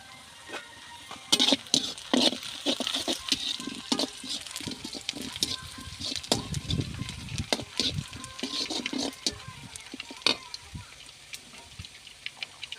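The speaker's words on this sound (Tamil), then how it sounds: "இன்னொரு சட்டி காஞ்சிடுது, எண்ணெயும் காஞ்சிடுது. கடுகு போட்டுக்கலாம்." Mustard seeds spluttering and popping in hot oil in a second pan while a village-style chicken or beef curry is cooked, a dense run of sharp crackles and sizzling pops close by, with no talk.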